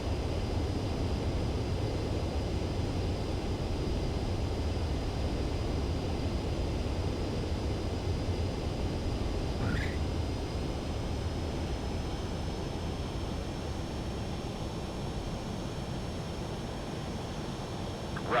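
A fighter jet comes in to land in the Ace Combat 7 game, a steady low roaring engine rumble with a faint high whine above it, continuous and even throughout, with no speech.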